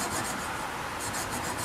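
A sander grinds steadily against a wooden dog toy, shaping its pointed tail, a close, continuous abrasive rasp with no pauses.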